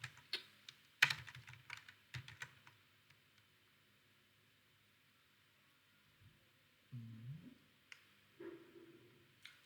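Computer keyboard typing, a quick close run of light key clicks at the start, then quiet, then a couple of faint soft knocks.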